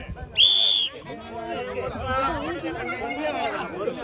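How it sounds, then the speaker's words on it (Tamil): A sharp, loud whistle blast of about half a second starts a competition game at a Pongal celebration in Saudi Arabia, cutting through crowd chatter that continues after it. "உங்களுக்கான விசில் சத்தம் கேட்டதுக்கு அப்புறம் உங்களுக்கான நேரம் தொடங்கும்"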